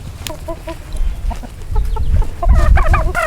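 Backyard chickens cluck in a run of short, repeated calls, building to a busier, louder burst of clucking near the end.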